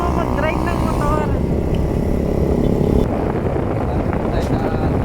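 A motorcycle engine runs steadily with a dense, rumbling drone throughout, close by and loud, with people talking over it.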